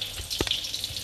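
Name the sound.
frying rice vermicelli (bihun goreng) with sambal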